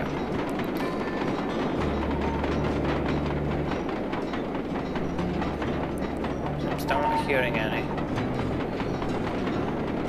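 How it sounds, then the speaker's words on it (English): Train ride in the Sly 2: Band of Thieves video game, a steady rumbling rail sound with rhythmic clatter under game music, and someone speaks briefly over it. "they give you a wee train ride"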